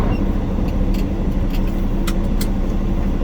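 A semi truck drives along while making a wide turn on the shoulder, its engine a steady, loud, close rumble with road noise and a few faint clinks.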